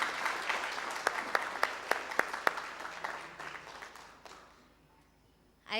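Applause from a convention audience at an actuarial society gathering, a moderate round with a few sharp, close claps standing out, tapering away to near silence before a sound at the very end.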